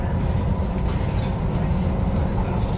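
Rumbling ride inside an older passenger train running along the rails, a steady low roar with constant rolling noise throughout, close and fairly loud, with no voices.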